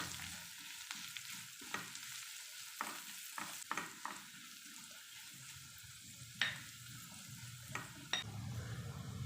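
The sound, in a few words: stirring potato palak with turmeric in a pan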